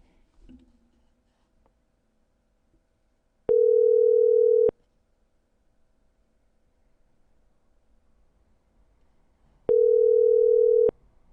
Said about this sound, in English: That person needs to pick up phone call.